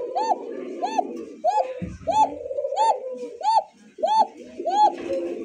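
Tiger shalik pigeons coo close by in a steady rhythmic series of about nine repeated calls, with a brief thump partway through.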